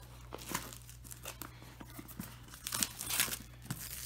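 Plastic wrap crinkling and tearing as a sealed box holding a self-watering planter and grow light is opened: close, irregular crackles and rustles with a low steady hum underneath.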